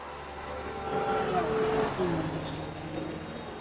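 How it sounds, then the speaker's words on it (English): An AMG Mercedes GT race car in a racing video game at Hakone, its engine rising and falling in pitch as it accelerates and shifts, moderately loud with people talking over it. "So this is in the AMG Mercedes."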